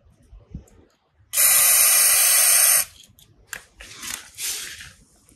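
A can of WD40 sprays a loud, steady hiss for about a second and a half onto the rusty double stand leg of a Suzuki GS150 SE motorcycle, followed by faint handling rustles and a shorter, softer spray.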